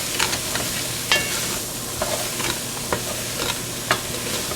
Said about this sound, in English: Cook the vegetables for about 5 minutes, stirring